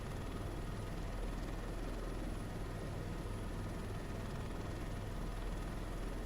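A helicopter in flight drones as a steady, dense, unbroken roar of rotor and engine, heard from inside the cabin.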